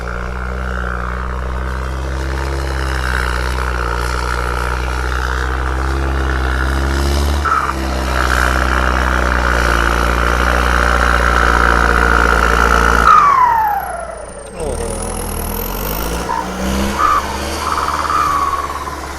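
An MU pickup with a newly fitted turbo pulls under power in low gear, a loud, close, steady engine drone with a rising and falling whine near the end as the revs shift. No voices are heard.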